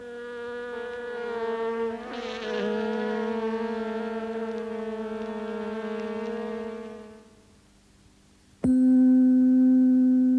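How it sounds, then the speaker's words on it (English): A bee buzzes with its wings beating over 200 times a second, giving a steady, rich, humming drone close by. The drone fades away briefly, then returns abruptly, loud and clear. "bee's buzz sounds as it does because its wings oscillate more than"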